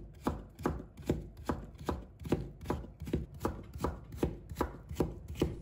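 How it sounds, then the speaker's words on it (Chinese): A knife chops a white radish into thin shreds on a board, with steady, evenly spaced strokes, about two per second, that land crisp and close with no voices. "再改刀切成丝，把萝卜丝也要细点。"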